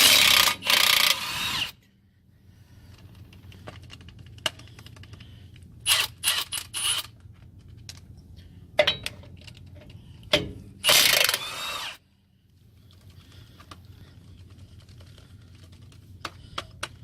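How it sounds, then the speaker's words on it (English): Ratchet wrench clicking as it loosens 18 mm Loctite-coated brake bolts on a Chevrolet Tahoe during a drum-to-disc brake conversion; loud bursts of rapid ratcheting separated by quieter pauses and occasional single clicks, close up. "these bolts are 18 millimeter, and I'm just gonna pop them off here real quick."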